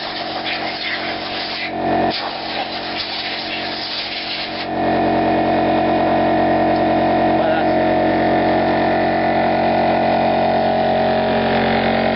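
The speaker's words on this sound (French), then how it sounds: "En plus le compresseur va déclencher" Air compressor kicking on in a workshop, a steady loud motor drone with humming tones that starts partway through over earlier noise and continues without a break.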